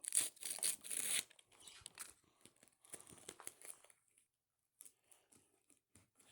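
A plastic collection packet is torn open with a loud, close burst of crinkling, followed by quieter rustling and handling that tapers into scattered soft rustles.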